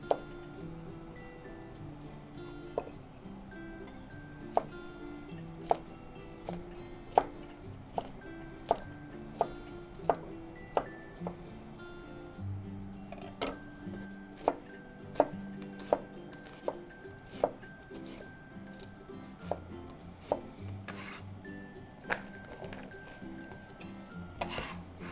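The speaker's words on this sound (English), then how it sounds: "Start chopping up our peppers. Just gonna cube everything, small" Peppers are cubed into small pieces for a salad, a knife tapping a cutting board in irregular quick chops, crisp and close, with occasional clinks in a quiet kitchen.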